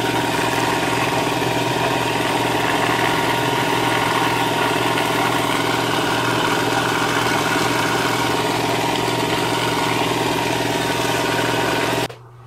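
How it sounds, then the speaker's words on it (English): An air compressor runs loud and steady for about twelve seconds with a constant motor drone and hum, then cuts off abruptly at the end; no one speaks over it. "I didn't mean for the compressor to go off right in the middle of filming"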